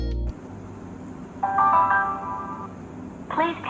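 A 70Mai dash cam powering up on a portable battery pack: a short low tone, then a bright electronic startup melody and another chime phrase near the end, close and clear.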